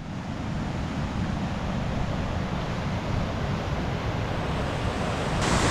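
A river rushes along its bank in Pangi Valley while wind blows across the microphone, a loud, unbroken roar of water with no voices.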